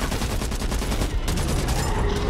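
Dense, continuous gunfire in the Back 4 Blood co-op shooter, rapid shots blurring into a steady loud barrage throughout the short stretch, with no talk over it.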